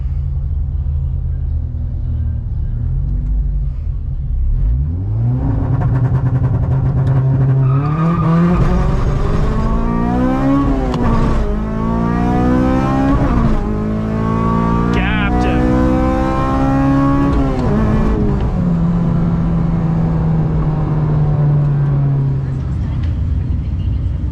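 K20/K24-powered drag race car launching down a drag strip, heard from inside: engine climbing through several rising revs with gear shifts, loud and close, with a voice speaking over parts of the run.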